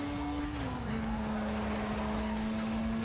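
Engine drone from a car in Need for Speed Most Wanted, a steady whine dipping slightly in pitch as it holds, with faint tire squeal and racing noise behind, loud and continuous throughout.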